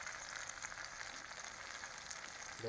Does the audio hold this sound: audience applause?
no